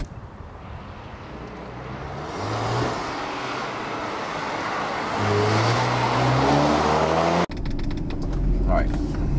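A 2021 Mercedes-AMG GLB35 4Matic runs on a race track, its engine note rising and climbing through revs at a steady moderate level, ending in a brief cut and a rougher rumble.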